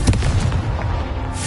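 In the Hogwarts Legacy video game, a Confringo blasting spell detonates in a single heavy, booming burst that rolls on and fades out over about a second and a half, with no speech.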